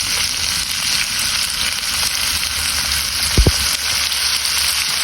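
Pork and pork liver fry in a pan with a dense, continuous crackling sizzle, close and loud, interrupted once by a brief low knock.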